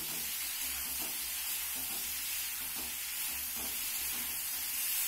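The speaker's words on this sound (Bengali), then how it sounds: "তাকে ভালো করে নাড়িয়ে নাড়িয়ে আমি ওলকপিটাকে ভালো করে, ওলকপি আলুটাকে ভালো করে ভেজে দিচ্ছি।" Kohlrabi and potato pieces fry in a pan with a steady, close sizzle, while a spoon stirs them in soft, repeated scraping strokes throughout.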